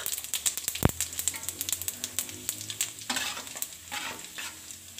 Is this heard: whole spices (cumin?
yes